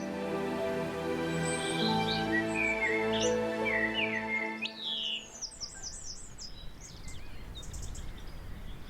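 Wild birds sing and chirp in the Rudrón Valley in Spain, with several bright, varied calls over music at first, then quicker trilling notes against a soft outdoor hiss.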